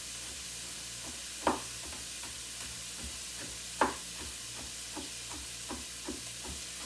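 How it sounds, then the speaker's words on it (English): Onions and garlic sauté in a pan with a steady soft sizzle and hiss, broken by a few sharp stirring clinks and scrapes, heard close with no voices. "while we're waiting for the onions to saute"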